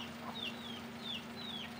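A rooster that seems sick or injured gives a few short, strained clucking calls at middling distance over a steady low hum, with no other sounds standing out.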